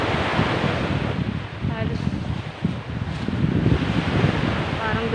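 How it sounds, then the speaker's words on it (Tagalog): Strong wind buffets the microphone while brown, storm-churned sea waves surge and crash along the Bataan shore in bad weather, a loud, continuous roar that swells and dips without letting up. "Malakas na yung hangin guys."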